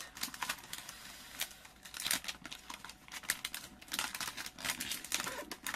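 A plastic pouch is folded by hand, giving a rapid run of close, crisp crinkles and snaps in irregular bursts.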